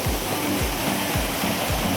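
Steady rushing of flowing water at Saptasajya in Dhenkanal, a broad continuous wash close by with no talk over it, though low tonal sweeps repeat roughly every half second.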